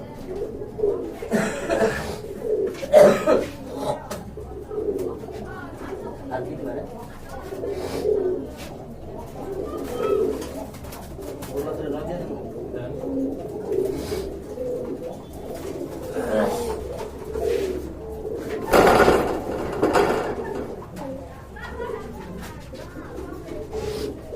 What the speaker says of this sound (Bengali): এখন আপনারা দেখতে পাচ্ছেন দুইটা নট কবুতর রয়েছে